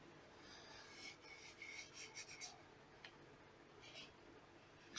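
Soft, raspy scraping of sandpaper rubbing on a carved wooden open book in short repeated strokes, faint and close, with a low steady background hum.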